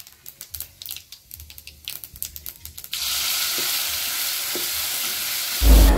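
Fennel seeds, garlic and cumin crackle in a hot kadai: a run of sharp tapping pops gives way to a loud steady sizzle, ending in a heavy low thump.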